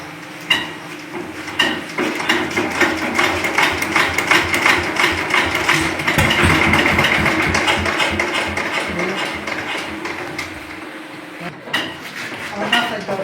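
L32 diesel engine being hand-cranked for a start: repeated clanking mechanical knocks and ratcheting strokes build into a rough, sustained rattling run before fading back to scattered metallic taps, with people talking over it.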